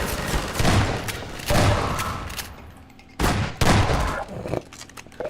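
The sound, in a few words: shotgun fire in the video game Half-Life 2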